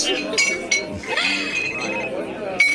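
Glasses clink together in a toast, several bright chimes ringing out amid lively chatter and voices nearby.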